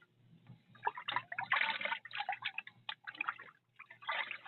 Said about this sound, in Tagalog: Ngunit awas sa gripo.